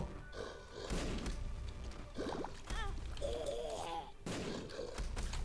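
Bomb blasts from a video game come as several bursts of thumps and crackles at moderate loudness, mixed with game effects and short tonal sounds.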